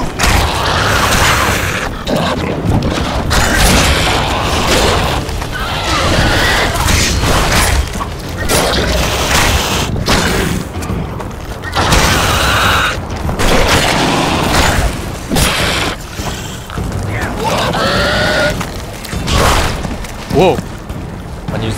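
Rotting ghoul-like monsters in The Witcher 2: Assassins of Kings blow up in a run of loud booming bursts and crunching impacts amid combat noise, with a player talking over the action.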